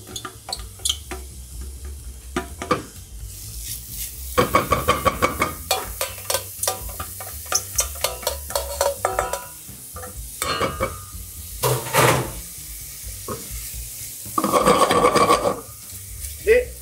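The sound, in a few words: chopped onions sautéing in melted butter in a pan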